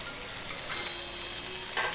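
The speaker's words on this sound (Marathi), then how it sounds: "आणि तर स्लो गॅसवरती अशी व्यवस्थित अशी परतून घ्यायची" Okra (bhindi) stir-frying in a little oil over a low gas flame: a soft, steady sizzle with one brief louder burst as the pan is stirred, no voices.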